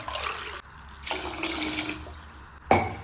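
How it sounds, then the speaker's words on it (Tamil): Water pours in bursts into rice in a cooking vessel while bottle gourd biryani is prepared, a close splashing stream that stops and restarts, ending with a sharp clink. "ஒரு 3 டம்ளர் தண்ணி ஊற்றிக்குவோம்."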